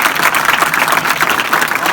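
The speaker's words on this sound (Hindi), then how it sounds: "जोरदार तालियां" An audience at a school laughter and traffic awareness event applauds loudly, dense continuous clapping up close for a couple of seconds with no talk over it.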